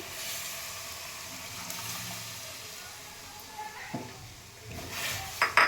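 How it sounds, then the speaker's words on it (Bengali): Thick boiled milk poured into a pan of carrot halwa, a soft steady liquid pour that swells into louder splashing and sloshing near the end, close by, with no voices. "দেখো এবার আমি দুধ দিয়ে দিচ্ছি দুধটা খুব ঘন করে ফুটিয়ে রেখেছি"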